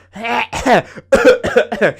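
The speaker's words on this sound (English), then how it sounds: "you gotta cough like you mean it" A series of loud, theatrical coughs and throat-clearing bursts, close up, several in quick succession with voiced, exaggerated tone.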